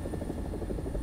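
An AB 205 A-1 helicopter in a tank combat video game, its rotor thumping in a steady, dense low pulse with a constant engine drone, loud and close, with no voices over it.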